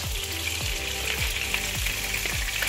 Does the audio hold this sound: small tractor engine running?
no